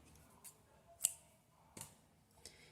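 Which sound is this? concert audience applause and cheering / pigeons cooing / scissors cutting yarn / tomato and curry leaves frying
scissors cutting yarn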